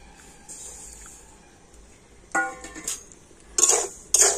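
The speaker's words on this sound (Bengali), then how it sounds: "আর এই লবণটা আমি এখন এই কড়াতে দিয়ে দেবো।" Salt poured into a wok to heat it for puffing rice. A few faint clinks are followed by short, loud gritty rattling bursts as the grains hit the metal, with quiet gaps between.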